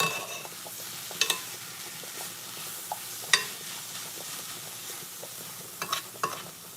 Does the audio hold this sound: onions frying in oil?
yes